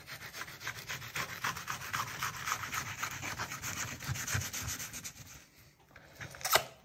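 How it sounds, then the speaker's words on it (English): A knife slicing and rubbing through shark meat to take the fillet off the skin, a steady close scraping rasp with continuous strokes and a sharp cut near the end, no voices. "Let's just fillet this as best that I possibly can."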